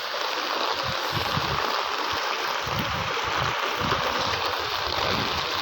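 Someone wades through floodwater in Antipolo during heavy rain, with a continuous loud rush and slosh of water and irregular splashing surges from steps close by.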